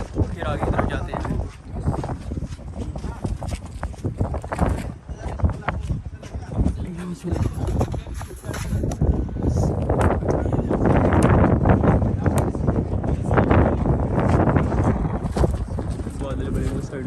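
Cold wind blows through an ancient cave near Makkah, a loud, steady rushing roar that batters the microphone and swells stronger in the second half.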